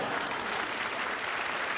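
Steady applause from a studio audience at a television comedy special greets a performer walking to his seat, dense and even throughout with no voices rising above it.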